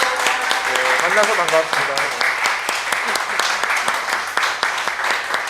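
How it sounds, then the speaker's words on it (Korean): An audience at a health talk show applauds a guest, steady clapping throughout while a person speaks over it. "박수 한번 쳐주시기 바랍니다"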